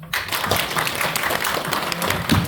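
An audience at a Democratic Party Busan chapter launch ceremony bursts into sustained applause after a lecture, dense clapping filling the room throughout, with a few scattered voices underneath.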